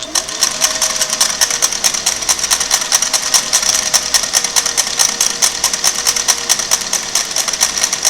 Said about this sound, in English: I'm going to use the knob on there to just make it a little bit finer and finer as I sew.